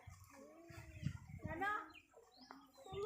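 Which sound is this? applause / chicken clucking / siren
chicken clucking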